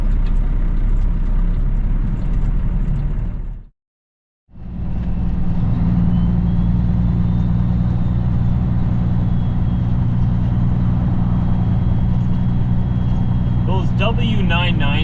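A semi truck's diesel engine idles while it backs in, a loud, steady low rumble with a brief cut to silence partway through, and someone talks over it.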